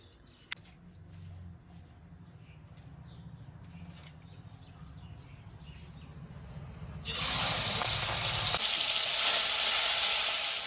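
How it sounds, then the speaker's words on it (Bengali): Shrimp hits hot oil in a wok with a steady sizzle and light stirring, then a much louder, bright frying hiss swells up and carries on to the end, with no talking. "হলুদটা দিয়ে দেবো চিংড়ি মাছটা আগে ভেজে নেবো"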